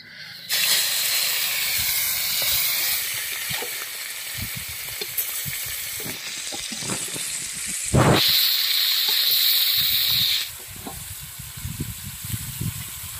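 Fish, turmeric-coated whole bam eel fillets, frying together in hot oil in a heated kadai, producing a steady loud sizzle and hiss that surges briefly louder midway before settling back, with scattered crackles underneath.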